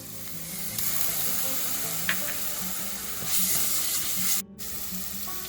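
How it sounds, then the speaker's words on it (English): Onions and ginger garlic paste sauté in a pan for channa masala, giving a continuous close sizzle with stirring, a brief metallic tap and a louder burst of frying near the end. "Once the onions are translucent, we are going to add the ginger garlic paste."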